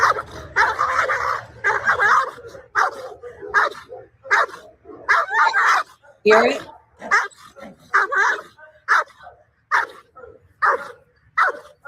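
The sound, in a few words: recorded dog barking in fear during a fight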